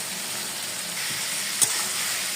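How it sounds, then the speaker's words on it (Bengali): Potatoes and cauliflower frying in spices in a pan, giving a continuous close sizzle with faint stirring scrapes and one small knock partway through. "আবারও এগুলো একটু ভালো করে কষিয়ে নেব।"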